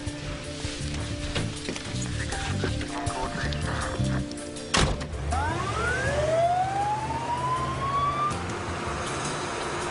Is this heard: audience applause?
no